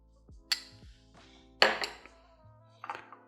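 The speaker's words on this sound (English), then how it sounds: "Just going to spoon this on the side." Red pepper hummus spooned onto a plate, a metal spoon clinking and tapping against the dish in three short, separated bursts, close and fairly quiet, with soft thuds between.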